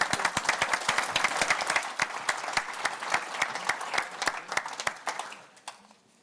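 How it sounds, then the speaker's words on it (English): Conference audience claps for several seconds, a sparse, moderately near patter that thins out and trails off to a few final claps. "a round of applause"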